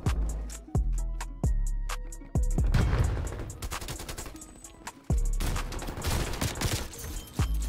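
Gunfire from Call of Duty: Black Ops Cold War, a Krig assault rifle with reactive tracers, crackling in loud bursts of rapid shots with a few single heavy cracks between them, close and dense with no talking.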